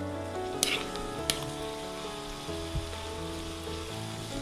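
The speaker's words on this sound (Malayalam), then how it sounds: "ഇനി ഇതൊന്ന് നമുക്ക് നല്ലപോലെ ബ്രൗൺ കളറിൽ വറുത്തെടുക്കണം" Chopped onions fry in a pan for chicken chukka, browning with a steady close-up sizzle and crackle, broken by a couple of sharp stirring clinks from a utensil.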